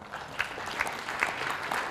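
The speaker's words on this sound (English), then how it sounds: "Give yourself again a round of applause." Audience at a faith-based family services meeting giving themselves a round of applause, steady dense clapping with a few rhythmic accents throughout.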